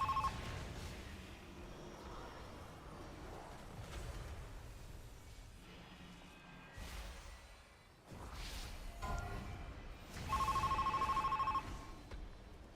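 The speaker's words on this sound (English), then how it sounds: "the ringing phone noise is whenever there's a thing" A ringing phone alert in World of Warcraft marking a boss mechanic such as afflicted adds or tentacles spawning, a brief trilling ring near the end over busy combat whooshes and rumble.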